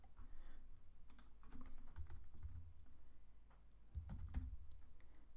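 Computer keyboard keys clicking in quick, irregular bursts, close to the microphone, with short pauses between flurries of typing.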